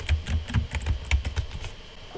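Typing on a computer keyboard while working in a terminal on a Mac: steady, close key clicks with irregular rhythm over about two seconds, with no talking.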